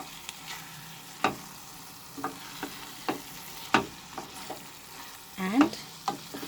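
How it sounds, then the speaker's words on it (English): Ghee stirred into cabbage and peas frying in a pan, a soft low sizzle broken by repeated spatula taps and scrapes at an uneven pace, fairly quiet and close. "Mix this ghee nicely."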